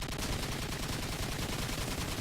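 Rapid gunfire and explosions from the video game Call of Duty 4: Modern Warfare form a dense, continuous loud barrage of overlapping shots with no pauses and no voices.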